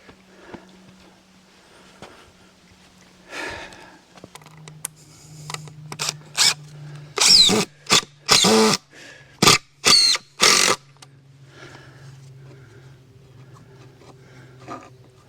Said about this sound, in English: So let's put a couple of screws in it.